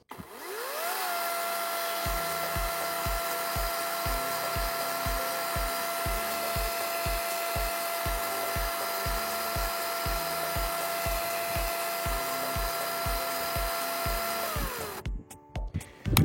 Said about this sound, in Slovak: Kde je vidieť, že reťazová píla maže aj po nepretržitom používaní celkom slušne